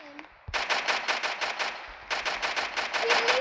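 Loud, rapid automatic gunfire from a gun in the Roblox game Brookhaven, fired in two sustained bursts separated by a short gap, close and dominant with no talking.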